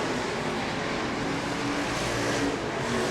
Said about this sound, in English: 1 lap remaining in your IMCA Stock Car A main.